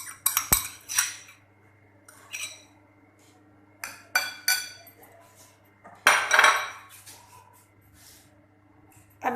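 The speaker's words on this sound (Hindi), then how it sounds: "अब इसमें सबसे पहले हम शामिल करेंगे प्याज का पेस्ट।" Onion paste going into a cooking pot of washed liver, heard as a run of metallic clinks and clatters of utensils against the pot, in separate bursts with quiet gaps between, close and fairly loud.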